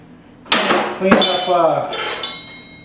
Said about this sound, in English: refacing some hammers, getting any kind of dents or whatever out of my hammers